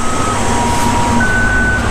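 A truck in China sounding its reversing alarm, a loud, close, steady tune of repeating electronic beeps over a constant engine and street rumble.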